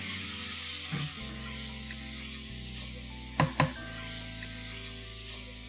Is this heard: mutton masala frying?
yes